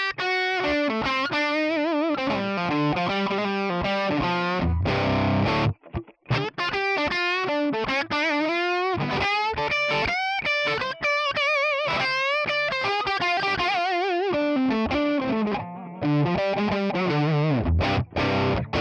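A Les Paul on its bridge pickup plays through a crunch amp model on a ToneX ONE, dry with no reverb, sounding as loud distorted riffs and chords with brief pauses between phrases.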